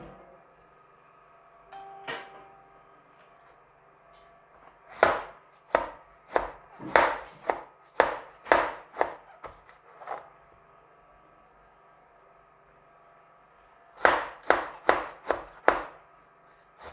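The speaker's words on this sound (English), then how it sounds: "So once you're done chopping your vegetables, you set it aside." Knife chopping vegetables on a board for a vegetable sauce: a quick series of sharp cutting strokes in a brisk rhythm, a pause, then another short run of chops, close and clear with no talking.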